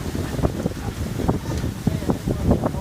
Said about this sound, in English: Oh, this wind just got serious.